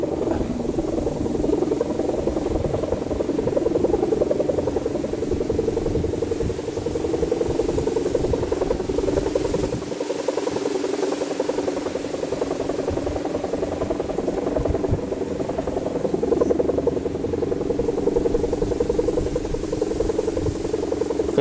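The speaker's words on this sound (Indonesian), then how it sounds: "Wah, anginnya tidak stabil, jadi sendaren campur aduk suaranya." A kite hummer (sendaren) hums in a strong, gusty southwest wind, a continuous buzzing drone over rushing wind noise that dips briefly midway and otherwise runs unbroken for the whole stretch.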